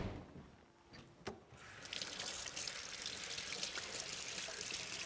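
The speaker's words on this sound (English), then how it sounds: "give my hands a little wash" A kitchen tap runs into a sink for handwashing during apple crisp baking, starting after a short quiet spell and a small knock, then a steady, moderately loud stream of water splashing continuously.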